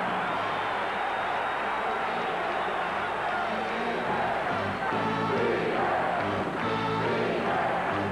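A college basketball crowd at a 1985 UTEP versus Georgetown game makes a continuous, loud arena roar. Voices rise into a rhythmic chant partway through, and an announcer is faintly audible under the din.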